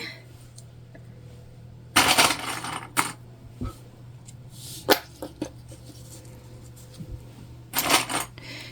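Sewing clips snapping onto fabric pieces for a bag, a series of sharp plastic clicks spaced irregularly over a quiet room, some in quick clusters, close and crisp.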